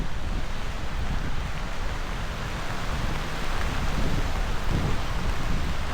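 Heavy rainstorm pounding on a hot tent beside a rising river, a loud continuous roar of rain with gusty wind surges, no talk.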